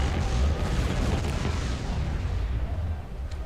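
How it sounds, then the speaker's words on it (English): In the Star Wars Empire at War video game, bombers on a bombing run unleash a loud rumbling barrage of deep, overlapping explosions that roll on continuously and slowly fade. "Bombers Perfect. at the ready. Oh yeah, beautiful. Commencing bombing run."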